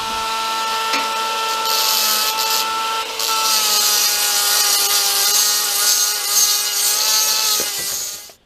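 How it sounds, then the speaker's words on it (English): A small Dremel rotary tool cuts through a cyclekart wheel hub on the back axle with a loud, steady high-pitched whine and grinding that runs without a break for about eight seconds. "I'm going to have a go with little Dremel to see if I can get that to go through"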